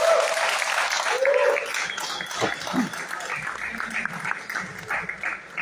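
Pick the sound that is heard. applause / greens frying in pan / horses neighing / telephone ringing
applause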